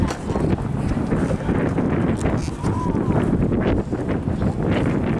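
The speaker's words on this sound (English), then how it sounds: "I feel like this wind is gonna sound really bad." Strong wind buffets the microphone at a skatepark session, a steady low roaring rumble that covers everything, with people's voices talking faintly underneath.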